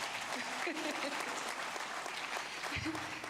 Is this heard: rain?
no